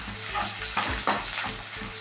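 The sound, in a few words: onions sautéing in a pan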